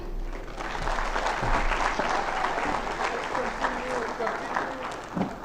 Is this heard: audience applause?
yes